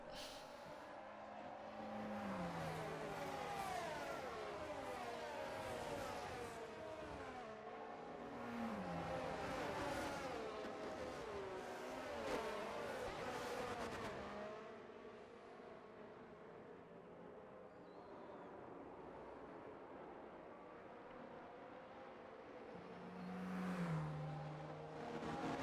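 Formula 1 race cars in a video game at the Australian Grand Prix, engines revving and shifting continuously with passes, loud throughout under a layer of game audio.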